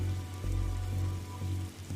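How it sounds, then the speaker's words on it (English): Steady rain pours down in a scene from the video game The Darkside Detective, a continuous dense patter over a low hum, with no voices. "whenever standing in this rain stops being fun for you"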